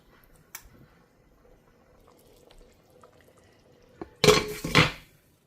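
A pot lid clatters down onto a pot of simmering green lentil dahl, a couple of sharp close metallic knocks and rattles after near silence with faint kitchen ticks.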